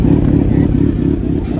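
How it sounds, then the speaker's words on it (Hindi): A Kawasaki Ninja Z900 superbike runs close by with a loud, steady, throbbing low engine rumble and a slight pulse throughout, without any talking. "super bike Z900"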